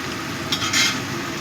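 Onion and tomato frying in a pan for a crab curry, a steady close sizzle with a brief stir scrape midway.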